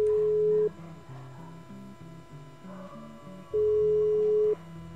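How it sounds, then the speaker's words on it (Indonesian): Phone call going unanswered in GTA V roleplay, heard as a steady electronic tone that sounds twice for about half a second each time, over a low stepping synthetic music bed. "Bentar saya telepon lagi Pak,"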